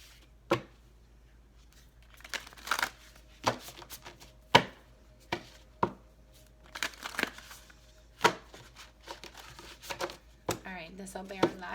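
Quick crisp riffling bursts of cards being shuffled, repeated several times at close range, with soft talk between them.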